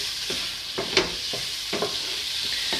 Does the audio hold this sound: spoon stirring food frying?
yes